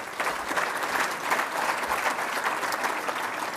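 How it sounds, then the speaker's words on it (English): An audience claps steadily throughout, a dense, even wash of applause at moderate volume with no voices standing out. "Let's give them a round of applause,"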